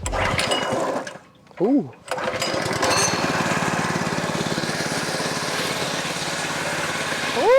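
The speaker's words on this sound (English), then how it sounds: "Choke is on, fuel is on, ignition on." A small go-kart engine with choke on sputters briefly, dips, then catches and runs at a steady high buzzing idle, loud and close; a voice exclaims once.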